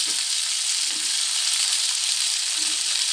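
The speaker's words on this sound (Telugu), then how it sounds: "ఒకసారి ఈ పక్కకి తిప్పేసుకుందాం చేపల్ని" Fish sizzling steadily in hot oil in a pan while being turned for a pepper fish fry, a dense, continuous frying hiss with a few soft low bumps from the pieces being moved, no talking.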